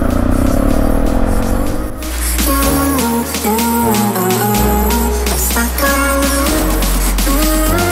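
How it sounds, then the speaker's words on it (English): A motorbike on a hill road in Thailand starts up and pulls away, its engine loud and close, revving and rising in pitch as it accelerates and keeps running. "If we can start the bike in the right gear."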